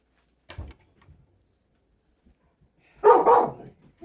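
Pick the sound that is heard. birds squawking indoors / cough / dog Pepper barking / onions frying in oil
dog Pepper barking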